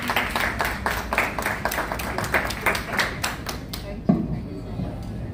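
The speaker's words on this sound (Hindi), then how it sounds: "तालियों के साथ उनका स्वागत करें" A group claps steadily to welcome Juhi Babbar at a welcome gathering in Paras Society, Sector 70, with fairly close, irregular hand claps and voices talking over them until the clapping fades near the end.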